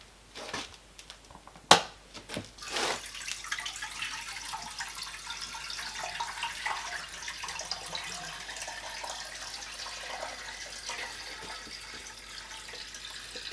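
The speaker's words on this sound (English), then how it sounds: "today we're gonna fill it up with water and start it up and see if it actually works" A garden hose runs water into a barrel at a farmhouse, a steady close hiss of filling water that starts after a few sharp clanks and bumps and then continues evenly.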